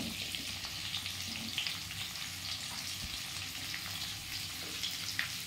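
Capsicum fries in a pan for chilli chicken, a steady close crackling sizzle that runs unbroken throughout, with faint scraping of stirring underneath.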